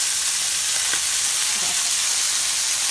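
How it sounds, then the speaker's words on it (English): Chicken sears in a hot pan with a loud, steady sizzle and hiss that carries on without a break, and no one speaks. "So I'm turning it over until we got a good sear."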